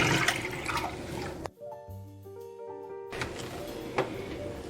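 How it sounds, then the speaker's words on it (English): Milk pours into a pot on the stove at medium heat, a steady liquid rush in two stretches with a quieter humming pause between them. "I'm gonna add my milk"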